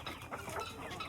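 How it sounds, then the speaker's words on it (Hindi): Desi hens and roosters clucking in a farm yard, a dense, continuous mix of overlapping clucks and calls at moderate loudness with no talk. "यहाँ पे देसी प्योर देसी मुर्गियाँ और मुर्गे आप देख भी सकते हैं।"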